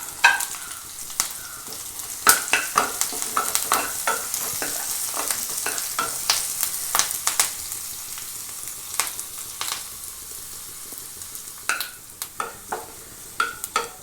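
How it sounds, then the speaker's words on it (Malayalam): Onion, dried and green chillies, chopped ginger and curry leaves sautéing in hot oil with mustard seeds, a close steady sizzle punctuated by frequent sharp crackles and pops and stirring clicks, no voices. "കടുക് പൊട്ടി വരുമ്പോഴത്തേക്ക് നമുക്ക് ഉള്ളി, വറ്റൽമുളക്, പച്ചമുളക്, ഇഞ്ചി അരിഞ്ഞത്, കറിവേപ്പില ഇത്രയൊന്ന് മൂപ്പിച്ചെടുക്കാം"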